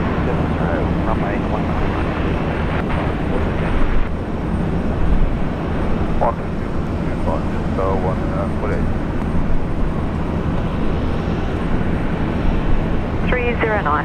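Airliner taking off from runway 19 at Brisbane International Airport, a steady broad engine roar filling the whole stretch, with faint tower radio voices breaking in over it now and then.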